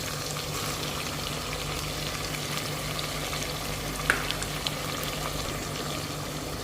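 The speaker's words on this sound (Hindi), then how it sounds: "तो इसे अब भुनाई करते हैं। 5 से 6 मिनट लगेगा इसकी भुनाई करने में।" Mutton being fried (bhunai) for a dhaba-style white mutton stew, a steady close sizzle with faint stirring, continuous and even, no voices over it.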